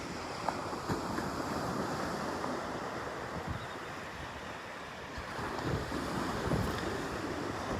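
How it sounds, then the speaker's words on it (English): Steady west wind blows outdoors at Pawleys Island, South Carolina, a continuous broadband rush with soft surf-like swells and buffeting on the microphone, with no voices. "The wind is from the west, and it feels great."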